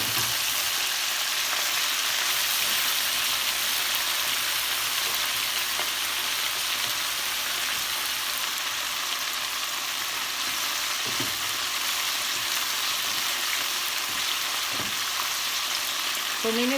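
Chicken pieces frying a second time in hot oil for sweet and sour chicken, a dense, even sizzle that runs without a break, with a couple of faint clinks of a utensil near the end.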